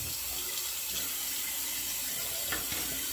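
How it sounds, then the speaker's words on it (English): Water from a tap runs in a steady, continuous splashing stream into a sink for rinsing a razor, close and fairly loud, with no voices. "we'll give it a quick rinse"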